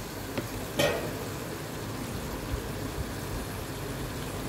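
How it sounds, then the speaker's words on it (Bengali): Tomato ketchup being stirred into a potato and mushroom gravy in a pan, giving a soft, steady frying sizzle with a brief utensil scrape near the start, alone without talk. "ওই হাফ কাপ মতো ধরুন টমেটো কেচাপ, দিয়ে ভালো করে নাড়তে হবে।"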